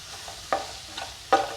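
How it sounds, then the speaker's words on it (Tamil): Onion, tomato and masala are sautéed in a pan for masala paneer noodles, with a soft background sizzle broken by a few sharp spatula scrapes and clacks, close by and without speech. "இப்போ வதங்கிடுச்சு நல்லா மசாலையும் வதக்கியாச்சு"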